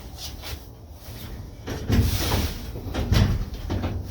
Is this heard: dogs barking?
no